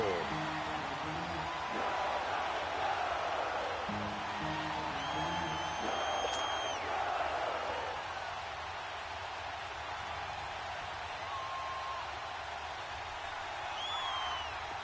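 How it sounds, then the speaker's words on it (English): A football stadium crowd in a PlayStation 4 video game roars steadily ahead of a big third down, a broad wash of cheering that swells and fades over fifteen seconds, with game voices and electronic tones layered on top. "The crowd getting into it as we come up on a big 3rd down."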